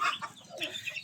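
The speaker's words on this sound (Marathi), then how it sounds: "खूप भांडणं करतात कोंबड्या." Free-range farm chickens squabble in a short burst of clucking, a close cluster of overlapping calls with no talk.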